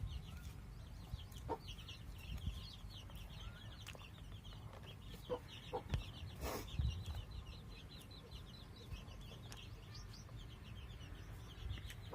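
Young chicks peep and cluck in quick, repeated bursts as they gather to peck at scattered food, soft and close against a quiet background with a few faint knocks.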